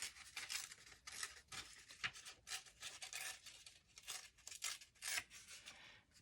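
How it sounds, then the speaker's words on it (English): A junk mail paper flier has its edges torn in a quick series of short, crisp rips and scratchy bursts, close-up and fairly quiet, with no voices. "Just tear the edges a little."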